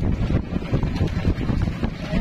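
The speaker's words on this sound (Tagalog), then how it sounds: "Uy, laks ng alon." Strong sea waves churn and slap around a small fishing boat at sea, a loud rough wash of water mixed with buffeting wind noise on the microphone, with no voices.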